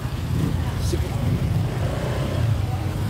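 A car drives into a flooded public market during a typhoon flash flood, its low steady engine rumble and sloshing water continuous and fairly close, with voices speaking over it.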